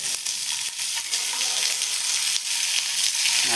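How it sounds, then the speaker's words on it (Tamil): Two tomatoes with curry leaves sautéing in a pan for an onion-free chutney, a steady bright sizzle with occasional stirring scrapes throughout. "நல்லா வதங்கட்டும்"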